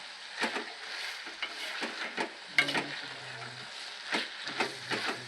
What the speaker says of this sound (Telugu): కొంచెం మగ్గినాయి దొండకాయలు. కలుపుకోవాలి, ఎందుకంటే మాడిపోతాయి, అడుగు అంటుకుంటుంది కదా.